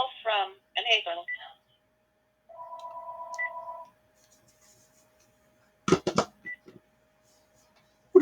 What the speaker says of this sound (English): What a time for the phone to ring.